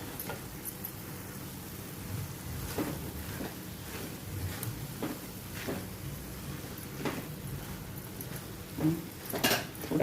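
Half a bowl of grated coconut sautéed with finely chopped fenugreek greens in a pan, heard as quiet scraping and clinks of a spoon against metal at irregular intervals, soft and close, without speech.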